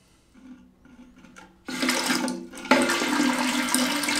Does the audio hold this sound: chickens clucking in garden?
no